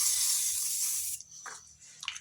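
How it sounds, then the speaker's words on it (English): WD-40 hisses from an aerosol can onto a vintage Collins axe head in a steady close spray lasting about a second, then fades into a few quieter handling noises. "spray it down with some WD-40"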